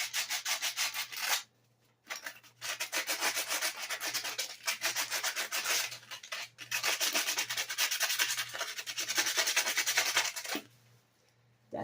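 Close rhythmic scraping of sandpaper rubbed back and forth over a part from a Murray 450 Series 20-inch push mower, in quick bursts separated by brief pauses.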